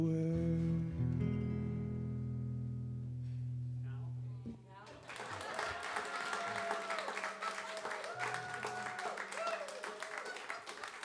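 Audience applause after a live song at a house concert, as the last sustained notes fade and a burst of clapping takes over, dense and steady for several seconds at close range.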